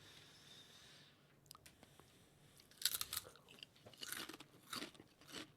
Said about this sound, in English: I think it has a bit of crunch running in there though.